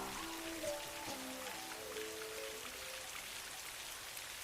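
Steady rain falling on a rainy night, a continuous soft hiss of drops with no voices, low and even throughout.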